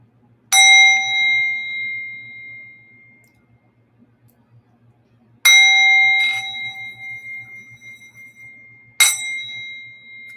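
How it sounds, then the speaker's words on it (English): A singing bowl is struck three times, each strike a bright metallic ring with several overtones that decays slowly, the second followed by a softer tap, over a faint low hum. "I'm going to run the singing bowl to cleanse the sound of the air"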